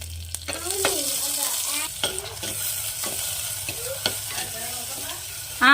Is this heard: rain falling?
no